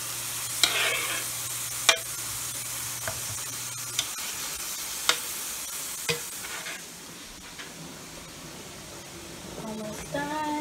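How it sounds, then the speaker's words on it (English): Burgers frying on a home stove during a keto family meal prep: a steady, moderate sizzle broken by scattered sharp clicks and taps of cookware. "He's getting the burgers on."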